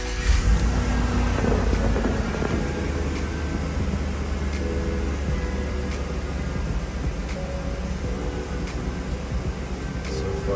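A 2002 Chevrolet Tahoe engine turns over and settles into a steady idle, a continuous low rumble holding close and even throughout with no talk.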